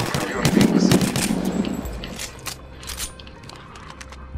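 Pistol fire rings out during Apex Legends training, a quick string of sharp gunshots followed by scattered clicks and mechanical sounds, moderately loud.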